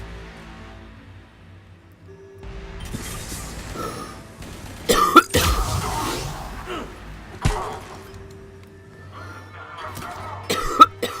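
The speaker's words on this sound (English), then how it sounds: "it's not a good time for a coughing fit" Game character in Mass Effect 3 coughing during a lunar assault mission, with several sharp coughs and throat-clearing bursts scattered over a quiet background hum, the loudest near the middle and end.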